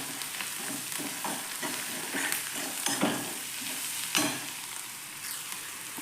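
A spatula stirs salt, turmeric and spices in a frying pan for a quick tomato sabzi, with steady soft sizzling and repeated scraping taps throughout; no one speaks.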